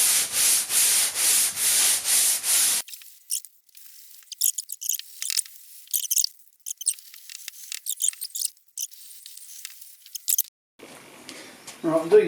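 Sandpaper is rubbed back and forth over the painted roof of a classic car, a rapid rhythmic scratching that gives way to scattered, fainter scraping strokes with pauses, all close and with no talking.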